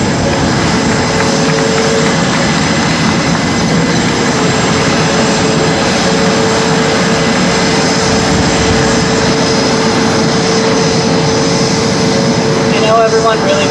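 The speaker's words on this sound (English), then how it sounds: "I know everyone really wants to watch the Blue Angel take off, so we're just going to pause for a minute as number 7 heads out" A Blue Angels jet, number 7, taking off from Boeing Field in Seattle, a loud continuous engine roar and rumble that holds steady throughout with no talk over it.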